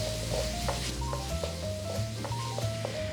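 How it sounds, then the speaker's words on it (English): Garlic sizzles in a hot pan during stir-frying for a homemade black bean sauce, a steady frying hiss with scattered stirring scrapes and a few faint tonal clinks, close and continuous with no talk. "I just want to let this come up to like a little bubble, a little sizzle, and then just give it about a minute of stir frying"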